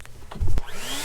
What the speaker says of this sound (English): we use the vacuum to vacuum the air inside